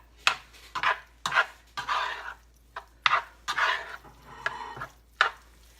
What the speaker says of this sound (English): Now you just want to fold, and this is a bad way to show folding because I'm doing it with a much too small spoon